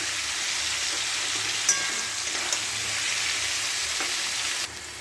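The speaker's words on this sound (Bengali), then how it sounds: "ভালো করে ভেজে নিচ্ছি" Vegetables for shukto sizzle steadily in hot oil, a constant crackling hiss with a few faint clicks from a utensil.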